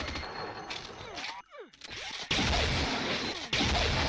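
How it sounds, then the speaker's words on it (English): Flak cannon fire in Unreal Tournament 99 on the Deck-16 map: rapid bursts of shots with metallic shrapnel pings and whizzing ricochets, loud and dense, with brief gaps between volleys. "some people just grab their favorite gun and just start pulling the trigger"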